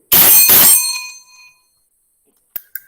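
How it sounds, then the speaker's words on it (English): Warning bell at a school poem recitation competition: one loud, close ringing strike with a bright metallic tone that decays over about a second, then two faint short taps. "A warning bell will be given at the end of 3 minutes, like this"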